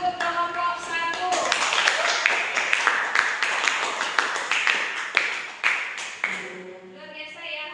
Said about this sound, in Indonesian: Kita berikan tepuk tangan untuk kelompok 1.